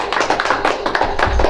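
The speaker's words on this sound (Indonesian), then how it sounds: "tepuk tangan semuanya yuk" A few people clap by hand at a line dance gathering, close and fairly loud, with irregular, uneven claps that overlap slightly over a short stretch, with no one talking.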